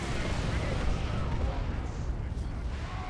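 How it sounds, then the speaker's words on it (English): Artillery barrage in the real-time strategy game Dawn of War 2: Retribution during a 2v2 match, a dense continuous rumble of heavy shelling and impacts that fills the whole stretch. "There's a barrage."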